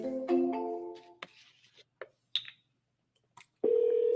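A phone rings out on an outgoing call to a seller, a short repeating electronic ring tone with soft clicks and rustling before it, the last tone sounding steady and clear near the end.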